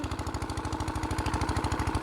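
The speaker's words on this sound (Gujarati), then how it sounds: "આગળ પેલું એક બીજું મશીન ચાલુ છે, અંદર મોટર ચાલે છે" A motor runs inside a machine beside a river with a steady, rapid pulsing chug, like a small engine idling nearby. It is loud and even throughout, with no speech.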